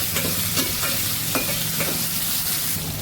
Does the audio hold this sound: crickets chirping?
no